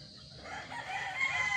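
A gamefarm rooster crows once, a strained, rising call with scratchy upper tones, fairly close against a faint background hum.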